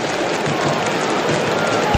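A football stadium crowd roars and applauds a goal in a Uruguayan league match between Nacional and Montevideo City Torque, a dense, steady wash of cheering and clapping throughout.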